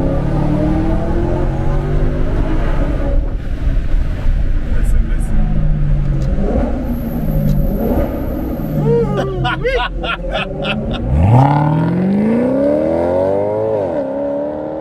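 Maserati Quattroporte GTS engine revving, deep rumbling exhaust with rising and falling pitch sweeps, a sharp climbing rev near the end, loud and close, with voices chattering in the background.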